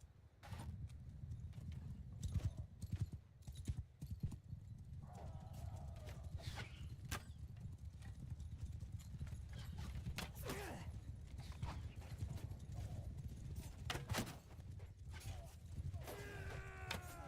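Horses galloping in the battle game Mount & Blade Warsails, a continuous rumble of hoofbeats with clatter and creaking, occasional neighs and shouts rising above the mass of cavalry.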